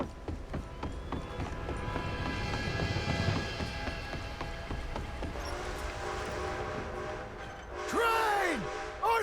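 A steam train approaches in the Western video game Red Dead Redemption 2, its rumbling chug building under hoofbeats and faint talk, then a loud whistle blast sounds close by before a brief pause.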